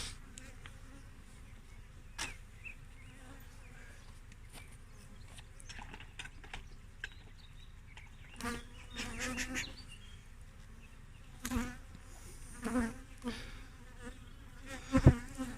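Honey bees hum around an opened hive during a first inspection, a soft constant buzz with occasional louder passes close by and a few clicks and handling knocks.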